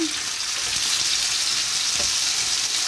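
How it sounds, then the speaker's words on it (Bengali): Potatoes fry in a pan for Bengali potato bhaji, a close, constant sizzle with faint scraping stir sounds over nearly three seconds and no talking. "এটা আলু ভাজি করতেছি"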